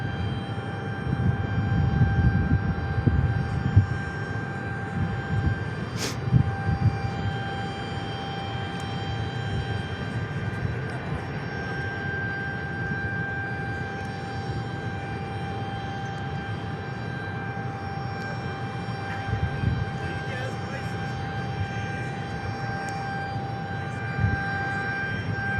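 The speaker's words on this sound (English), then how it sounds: "We just had 3 F-16s take off." Air National Guard F-16 fighter jets taking off at night, heard as a distant, steady jet rumble with a faint sustained whine, moderately quiet and continuous, with no talking.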